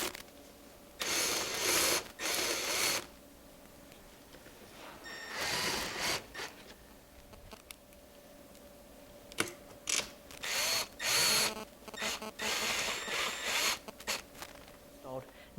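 Bolts being threaded and tightened while installing a Pro Moto billet rack on a Honda Grom motorcycle: several bursts of ratcheting, zipper-like mechanical clicking, close and moderately loud, separated by quieter pauses.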